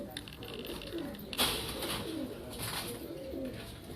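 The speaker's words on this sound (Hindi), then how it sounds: "और लाल जालदार कबूतरों को शौक करवा रहे हैं।" Red jaldar high-flying pigeons on a rooftop in Karachi coo softly under a steady outdoor hiss, with a faint voice in the background.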